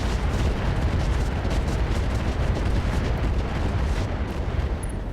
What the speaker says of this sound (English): we are going to fire the MRMs